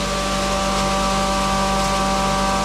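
The electric motor of a Kraft 4 grain grinder runs under load, giving a loud, steady, even hum with a constant tone and no break, close up.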